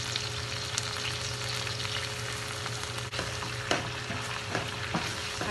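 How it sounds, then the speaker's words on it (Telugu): Soy chunk manchurian fries in a pan with green chilli sauce, soy sauce and vinegar, giving a steady close sizzle with occasional light scrapes and taps of stirring. "ఇది ఇప్పుడు కాసేపు ఫ్రై అవ్వాలండి."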